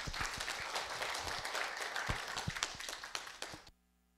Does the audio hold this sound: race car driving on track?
no